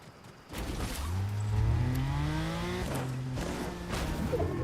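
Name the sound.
fast car driving in a video game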